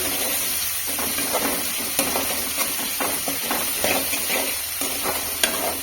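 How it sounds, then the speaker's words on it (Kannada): Onions sizzle and fry steadily in a pan, with a constant hiss and scattered stirring scrapes and taps, close and fairly loud with no voices. "ಈರುಳ್ಳಿಯನ್ನು ಚೆನ್ನಾಗಿ ಫ್ರೈ ಮಾಡ್ಕೊಳ್ಳಿ ಗೋಲ್ಡನ್ ಕಲರ್ ಬರೋ ತನಕ ಚೆನ್ನಾಗಿ ಫ್ರೈ ಮಾಡಿ"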